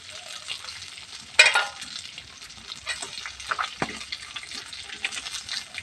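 Dried red chilli and black cumin (nigella) seeds fry in a little oil, making a soft, crackly sizzle with a sharp pop or stir clatter near the start and light spatters after, no talking.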